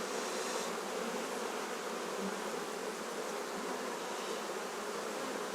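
Honeybee swarm humming steadily inside an open hive during an inspection, a dense continuous buzz holding at even loudness throughout with no voices.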